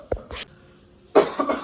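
A single sharp cough followed by a second smaller one, then a louder rough cough with throat noise after a short pause, close and dry.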